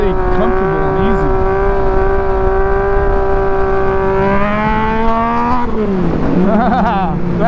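Yamaha MT-09/FZ-09 motorcycle engine while riding: a steady, strongly pitched drone that climbs as the bike revs up, then drops and wavers through gear changes, loud and close, with a voice talking over it.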